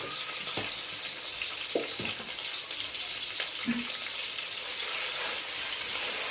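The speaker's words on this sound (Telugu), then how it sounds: "అల్లం పేస్ట్ కలిసేలాగా చికెన్ వేస్తున్నానండి" Chicken pieces dropped into ginger paste frying with curry leaves, a steady close sizzle with a few soft clinks and stirring sounds, no talk.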